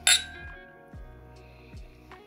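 Whiskey glasses clink together in a toast, one sharp bright chime followed by a few lighter ringing touches and a lingering glassy tone, close and clear, with no talk over it.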